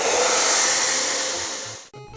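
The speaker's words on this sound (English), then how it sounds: "I'm going to turn on the hairdryer" A hairdryer blows close and loud as it warms a sticker on a boxed NES game, a steady rushing roar that winds down and cuts off near the end.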